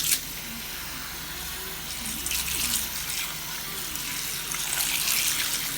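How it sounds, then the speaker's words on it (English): Very cold tap water runs steadily into a bowl of oxtails being rinsed, a constant bright splashing rush that swells a little toward the end, with no voices. "rinse them with some super cold water"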